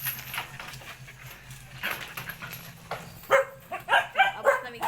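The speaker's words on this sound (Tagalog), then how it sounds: "may aso" A dog barks outside a house, several sharp close barks in quick succession near the end after a stretch of background murmur.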